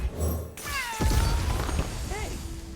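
A cat meows over background game music from Legends of Runeterra, with a few rising and falling calls in close succession, fairly loud and near.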